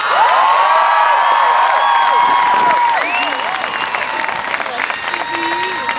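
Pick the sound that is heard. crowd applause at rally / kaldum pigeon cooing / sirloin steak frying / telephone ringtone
crowd applause at rally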